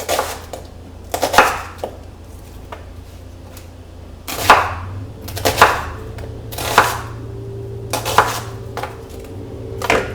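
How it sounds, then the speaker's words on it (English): A knife cuts trimmed, peeled vegetables into half-inch strips on a board, with sparse taps at first, then a run of firm, evenly spaced chops over a low background hum, with no talking. "We're going to take these and cut them to about 1/2-inch strips."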